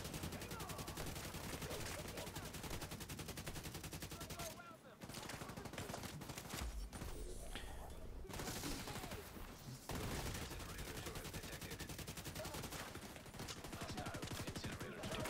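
Rapid automatic gunfire in The Division during a Dark Zone boss fight, dense continuous bursts of shots with a brief pause and muffled stretch midway, then sustained firing resumes, loud and close.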